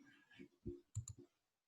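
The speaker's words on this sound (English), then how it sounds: "I hear clicking." Sharp clicking on a call line during a conversation about NFL playoffs, a few quick high clicks near the middle of the clip amid brief low bursts of voice.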